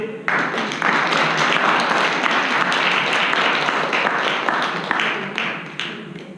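A small group at a creative workshop applauds a winner, with individual claps distinct within a fairly close, steady patter that starts abruptly and fades toward the end.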